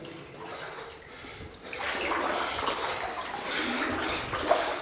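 Sloshing and splashing of legs wading through knee-deep water inside a flooded mine with huge square-set timbers and inclined shafts; steady, close, continuous churning that grows louder partway through, with no talk.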